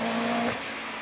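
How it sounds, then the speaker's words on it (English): A Westfield race car with a 2-litre Vauxhall engine races a hill climb, heard as a loud, steady engine drone that fades slightly after half a second as the car moves off. "What can Ben do in his 2 litre Vauxhall car, Westfield?"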